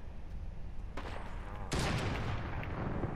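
Gunfire in the video game Fortnite: a sudden burst of shots cuts in, followed by a louder sustained volley of rapid gunfire that continues to the end.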